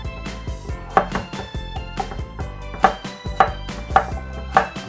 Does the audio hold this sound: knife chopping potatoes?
yes